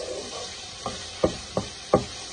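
Onion and ground meat sauté in a hot pan for a Turkish purslane dish: a steady low sizzle broken by several sharp spoon scrapes and taps against the pan at regular intervals, with no talk.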